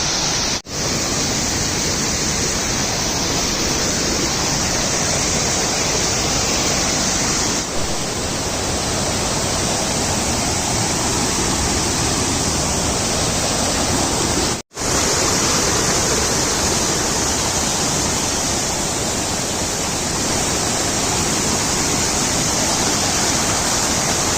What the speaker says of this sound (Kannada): ಬಂಗಾರ ಕುಸುಮ ಫಾಲ್ಸ್